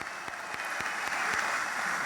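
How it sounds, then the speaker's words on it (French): Turkish parliamentarians applauding Erdogan during a speech in parliament, a broad wash of distant hall clapping with a few sharp, separate claps standing out, moderately faint throughout. "qui se lèvent et qui l'applaudissent"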